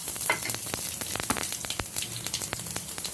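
Finely chopped garlic dropped into hot oil sizzles and crackles steadily, with dense bright spattering and a few sharper pops, close and fairly loud with no voices.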